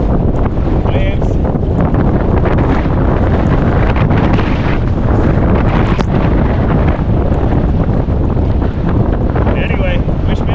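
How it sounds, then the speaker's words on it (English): Strong wind buffets the microphone while kayaking on Lake Cavanaugh in rain and waves, a loud, continuous broadband roar with water splashing against the kayak throughout. "just a good time getting the kayak wet, fighting some wind and rain,"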